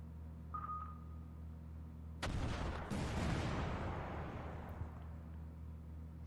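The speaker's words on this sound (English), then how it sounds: "now we're getting lots of missiles launched." In the naval combat game Command: Modern Operations, a sudden loud roaring whoosh of missiles launching bursts in after about two seconds of low hum. A second surge follows, and the roar then tails off gradually into a fading rush.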